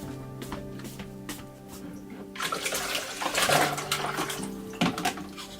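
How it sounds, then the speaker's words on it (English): Someone washes their face with ice-cold water in an extremely cold village, with splashing and running water that starts partway through over a background hum, fairly close and steady. "he washed his face and brushed his teeth. Aryan uses the ice-cold water that his dad prepared earlier."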